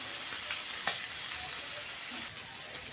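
Prawns fry in a pan with a dense, even sizzle up close, a few faint clicks and spits on top, and the hiss easing slightly near the end; nobody speaks.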